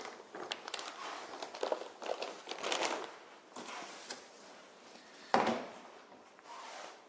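A model car is lifted out of its main box, with close cardboard rubbing and scraping, soft knocks and plastic crinkling in uneven bursts. One sharper handling thump comes near the end, and no one speaks.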